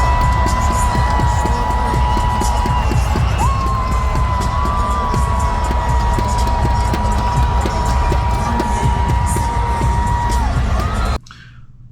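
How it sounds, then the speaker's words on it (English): A crowd at a New Orleans Pelicans NBA game roars and screams in a loud, continuous wall of cheering with a sustained whistle-like tone on top, cutting off abruptly near the end. "What is the decibel level when the crowd actually starts to scream?"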